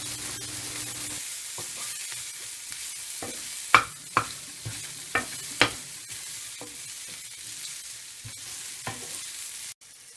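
Garlic, onions and lemongrass sauté in a pan with a steady broad sizzle, broken by several sharp clacks of a utensil stirring against the pan; no voices.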